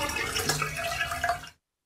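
Water is poured from a container into a tub in a children's bath-themed counting game, giving a short splashing, gurgling pour that lasts about a second and a half and then cuts off abruptly into silence.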